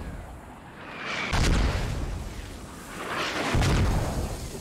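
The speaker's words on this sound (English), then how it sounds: "Mortar landing right outside the bunker that is holding three militia" Two heavy mortar rounds land in the Squad Ops military shooter, each a deep, rumbling boom that swells and fades, spaced about two seconds apart over a constant low battlefield roar.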